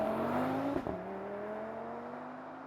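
An Audi TT RS with a seven-speed dual-clutch gearbox accelerating hard, the engine note climbing, dropping briefly at a quick upshift, then rising again under load.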